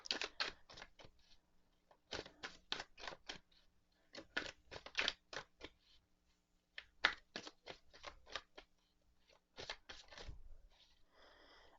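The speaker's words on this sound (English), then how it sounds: "So, I'm going to shuffle." Tarot cards shuffled close by in a quiet room, with repeated crisp riffling bursts in quick rhythmic runs and short pauses between them, and no talking.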